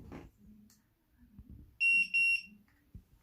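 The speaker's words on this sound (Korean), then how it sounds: "삐삐 소리가 났습니다" Two quick high-pitched electronic beeps from a digital door lock keypad after its red reset button is pressed, loud and close, with faint handling noises and clicks around them and no talking.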